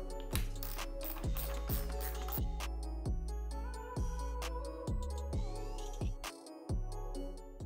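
A socket ratchet clicks steadily in quick repeated strokes, close and fairly quiet, as a 9/16 socket backs out double-sided studs on a car dash panel.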